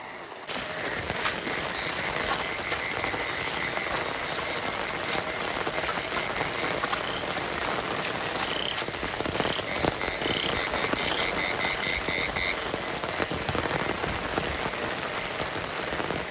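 Heavy monsoon rain falls steadily at a rainy campsite, a dense unbroken hiss throughout with frogs croaking persistently alongside.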